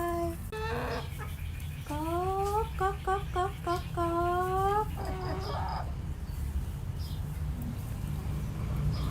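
Chickens kept at a house cluck in a quick series of close, clear calls over a few seconds, then go quiet against a low background hum.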